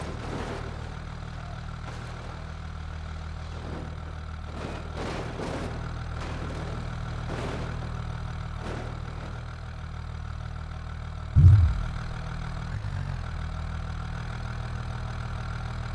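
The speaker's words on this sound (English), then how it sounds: "the car engine at idle and BeamNG sounding not being done, properly" A car engine idles in the BeamNG Drive video game with a low, steady hum, joined by faint scattered clicks and one brief thump near the end.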